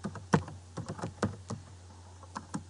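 Quiet keystrokes on a computer keyboard tap out a location in an irregular burst of about a dozen light clicks, close and isolated with no talking.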